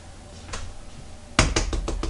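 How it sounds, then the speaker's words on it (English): A film developing tank tapped on its top to knock loose air bubbles: one soft tick, then a quick run of five or six sharp, close taps after a short pause. "Give it a tap on the top just to make sure there's no air bubbles"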